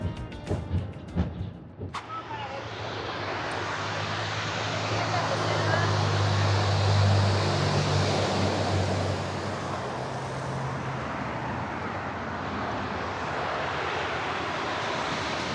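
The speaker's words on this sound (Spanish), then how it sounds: "escuchen qué hermoso el ruido del mar" Sea waves breaking on the shore beside a harbor with a cruise ship, a steady broad wash of surf that swells in the middle and stays continuous, with a voice heard briefly at the start.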